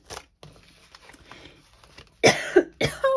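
Two harsh, close coughs break out near the end after quiet rustling, the second followed by a brief throat-clearing sound.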